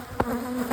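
Honey bees at an open hive swarm close by in a dense, agitated buzz that swells and wavers without pause.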